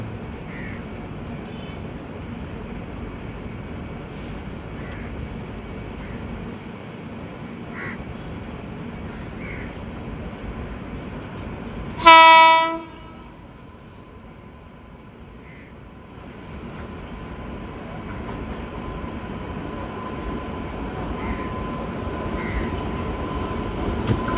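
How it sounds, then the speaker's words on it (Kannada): The Sainik Express passenger train gives one brief, loud horn blast over a steady rumble of wheels on the track, then the constant running noise carries on and slowly builds. "ಟ್ರೈನ್ ಒಳಗೆ ಟ್ರಾವೆಲ್ ಮಾಡ್ತಿದ್ದೆ"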